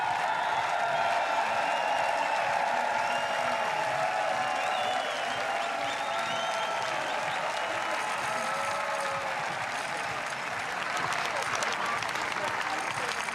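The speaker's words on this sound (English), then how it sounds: "they were screaming and cheering and singing and clapping for the entire evening" Large crowd cheering and clapping at the finish of a European Championships triathlon in Munich, a dense sustained roar of applause and shouting that stays loud throughout with no break.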